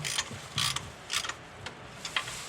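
A hand ratchet clicks in short bursts while nuts are tightened onto the power steering, AC and alternator brackets of a Ford 289 V8. The clicking runs in several close, moderately loud runs with brief pauses and no voices.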